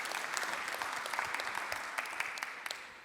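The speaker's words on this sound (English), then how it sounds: "Give a round of applause for the panelists." A small crowd at a panel discussion claps steadily, a dense patter of hand claps at moderate distance, sustained throughout without voices standing out.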